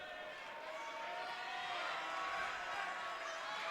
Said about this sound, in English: crowd going wild for the ref